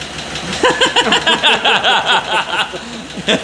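A Chevy Silverado 4x4 pickup truck engine idles after an engine swap with a steady, uneven rumble and rapid mechanical ticking, close and fairly loud.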